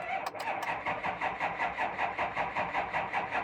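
A Ford F350 with a 6.0 diesel engine cranks slowly on weak batteries, a steady rhythmic churning of the starter with regular pulses, close and fairly loud, with a few brief clicks at the start.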